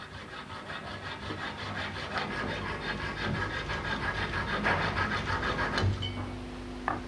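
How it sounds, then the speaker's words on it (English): A steady rasping saw strokes back and forth through metal model railway track rails in a continuous rhythm, close and moderately quiet. "the rails can be cut with no difficulty whatsoever"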